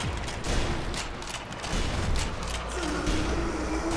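Scattered gunfire and impacts from the video game Sniper Elite Zombie Army 2, fairly faint and muddled under a busy, noisy game mix with no clear individual shots standing out.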